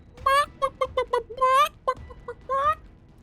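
Chicken in the Resident Evil 2 Remake video game clucking in a quick series of close, clear squawks, a short pause, then one more burst.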